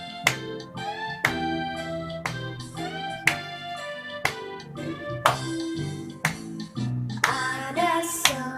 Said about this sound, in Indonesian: diikuti pola irama tepuk tangan